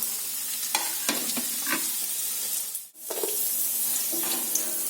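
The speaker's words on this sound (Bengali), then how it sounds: "এই তেলের মধ্যে আমি আলুগুলো দিয়ে আলুগুলো লাল করে ভেজে নেব" Potatoes frying in hot oil, a continuous close sizzle with intermittent stirring scrapes and a brief dip in the middle, no voices.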